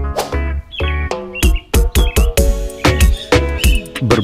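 Birds chirp repeatedly at an animal park in the Dalat highlands of Vietnam, a busy series of close, loud calls and tweets with short gaps between them and no talking.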